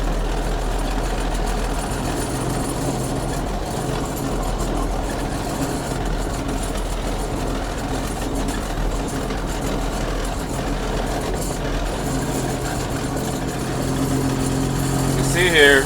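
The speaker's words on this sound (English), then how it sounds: "there's a lot of rattling going on right now" A 2001 Freightliner FL70 single-axle day cab with a CAT engine idles with a steady low rumble and continuous rattling, while someone talks over it.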